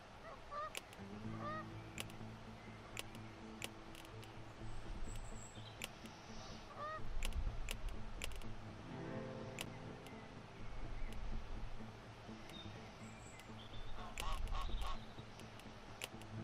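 Geese in the zoo-building video game Let's Build a Zoo (Dark Zoo) honk in scattered, fairly faint calls over a steady low background hum, with no talking.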